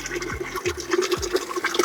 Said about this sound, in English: So you just pour in the waste.